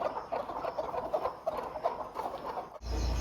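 Soft repeated clucking of broody free-range hens, close and steady, with a low rumble of wind noise toward the end.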